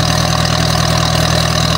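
A Kohler emergency light plant engine runs at a steady, loud idle, close by, with an even low throb and no talk over it.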